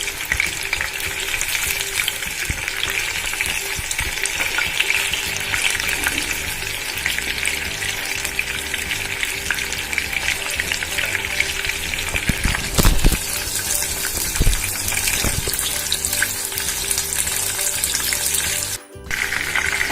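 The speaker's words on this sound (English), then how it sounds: "I'm going to fry these until they're golden brown." Prawns deep frying in hot oil until golden brown: a loud, dense, continuous bubbling sizzle up close, with brief stirring scrapes midway and a short dip in the noise near the end.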